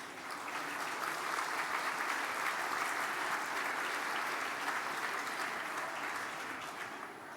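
Steady, sustained clapping from a large audience at an evening awards ceremony in New Zealand, moderately distant and even throughout, fading slightly at the end.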